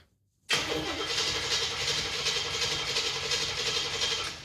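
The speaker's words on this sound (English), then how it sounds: "Okay, so it fires but doesn't keep running." A Chevrolet Impala fitted with new fuel injection cranks and fires, the engine catching abruptly after a moment of silence and running roughly for a few seconds before starting to fade, loud and close with no talk.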